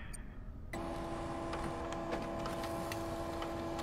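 A printer runs in the Freddy Fazbear's Pizzeria Simulator video game. It starts abruptly after a quiet moment and settles into a steady mechanical hum with faint ticking clicks. The sound is fairly quiet and no one speaks over it.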